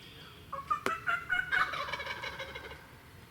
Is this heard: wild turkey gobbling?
yes